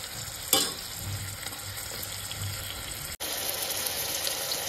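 Mushrooms fry in a pan with garam masala for a mushroom pulao, a steady close sizzle with occasional stirring scrapes and a brief dropout partway through.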